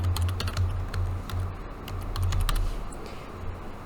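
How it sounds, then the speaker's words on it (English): Quick, steady clicking of fingers typing on a computer keyboard, close and fairly quiet, with no voices over it. "When I want to type something, I can simply go to my chapter, jump right in here, and start typing."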